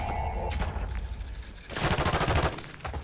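Gunfire in Call of Duty MW3 Warzone arrives as a rapid automatic burst, loud and close, following a quieter stretch of background game noise.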